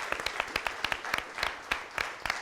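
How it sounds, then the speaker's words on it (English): Sparse applause from a small audience at a school board of education meeting, a few people clapping in uneven rhythm, moderately quiet and close. "You can clap for that."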